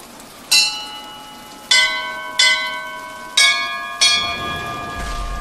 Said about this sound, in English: You need to ring these bells in a certain pattern